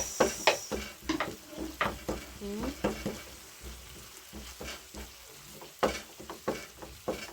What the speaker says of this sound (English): Go ahead and mix the tomatoes.